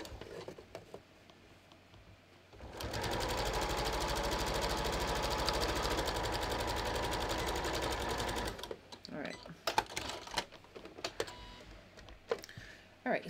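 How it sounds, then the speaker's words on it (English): A sewing machine stitches a welt to a pocket bag in a fast, even, loud mechanical run lasting several seconds, then stops, followed by handling noises and a speaking voice. "we're gonna sew our welt directly to our pocket bag"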